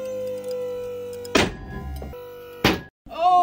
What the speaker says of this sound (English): Oh, we broke two carabiners.